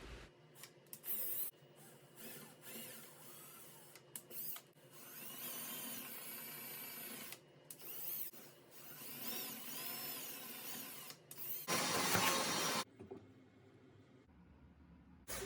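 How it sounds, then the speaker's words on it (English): A power drill bores holes in a wood board for a window plant stand bracket, whirring in several bursts of varying length with brief pauses between, fairly close and alone without talk. "I drilled out the holes for one bracket to do a test fit prior to drilling out the others."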